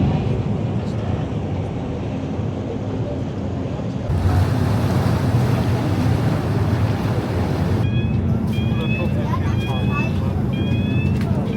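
A ferry crosses canal water in Amsterdam. A continuous broad wash of churning water and engine rumble mixes with strong wind buffeting the microphone, and the sound grows louder midway, with faint high chirps near the end.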